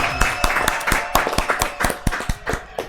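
A small group claps hands in quick, uneven, sharp strikes, close and fairly loud, with no talk over them.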